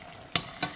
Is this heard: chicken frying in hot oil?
yes